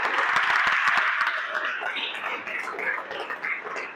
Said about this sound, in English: Keep clapping until she gets here.